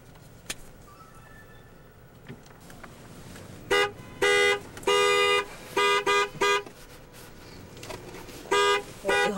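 Car horns honk repeatedly in short, loud bursts, some quick and clipped, over faint background traffic noise, during a town celebration after a state basketball win.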